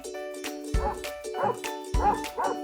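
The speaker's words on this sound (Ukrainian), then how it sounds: "Собака." A dog barks several times in quick succession, sharp and close, over a steady background hum.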